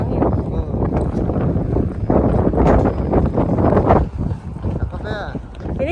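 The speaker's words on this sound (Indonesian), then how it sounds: "Berangin lagi, sedikit berangin." Steady wind rushing across the microphone on the outskirts of Nagoya, Japan, close and fairly loud, under ongoing talk, with a low rumbling engine or boat noise beneath.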